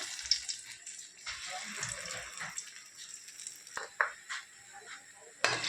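Ram laddoo batter frying in hot oil, giving a steady soft sizzle with occasional clinks and stirring scrapes from a utensil.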